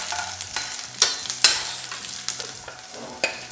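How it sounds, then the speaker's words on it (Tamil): Capsicum fries lightly in a pan for pasta, a soft continuous sizzle broken by several sharper scraping stirs of a spatula. "ஒரு 30 செகண்ட்ஸ் மட்டும் லைட்டாக ஃப்ரை பண்ணிக்கோங்க."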